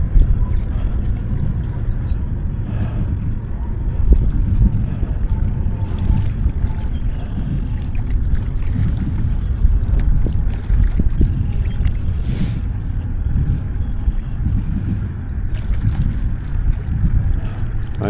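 Strong wind buffeting the microphone at Harrier Lake in Illinois, a constant low roar with gusty rumbling and faint water lapping, loud and unbroken with no talking.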